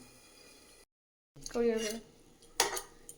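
Kitchen dish washing: pots and cutlery clatter in a short sharp burst after a moment of talk, with a quiet background before it.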